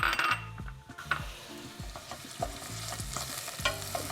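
Garlic and leek sauté in a pan, a close sizzle broken by repeated scraping stirs of a utensil against the pan, with a few light clinks.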